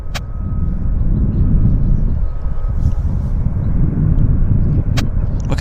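Lufthansa Airbus A340 jetliner pushing back at YVR airport in Vancouver, its engines giving a steady, loud low rumble that fills the scene, with a faint whine above and a few brief clicks.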